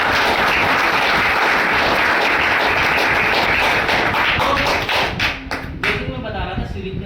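Strong applause from a gathered audience, dense and continuous for several seconds before thinning into scattered claps and fading, with speech rising near the end.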